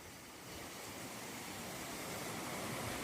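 A large waterfall at Napne in the Konkan region pours with a steady, dense roar of rushing water, a continuous broadband wash that holds even throughout with no voices over it.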